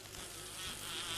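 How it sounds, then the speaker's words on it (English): A bee buzzes in the survival video game 7 Days to Die, a continuous faint insect drone over about a second. "I hear a bee."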